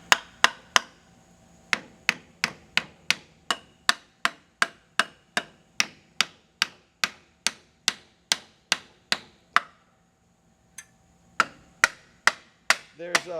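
A thin tool is tapped repeatedly against a frozen Jeep engine part, sharp metallic knocks in a steady rhythm, close and crisp, with a short pause before the tapping resumes.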